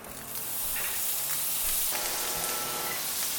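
Three tablespoons of butter sizzle in a hot pan that was just used for searing Salisbury steak patties, a steady close hiss that swells after the first moment and holds with no talking.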